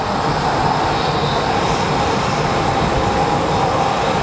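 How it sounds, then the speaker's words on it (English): A Southwest Airlines plane pushes back at Phoenix Sky Harbor Airport, its engines giving a loud, steady broadband roar that holds without a break throughout. "We have our Southwest plane pushing out."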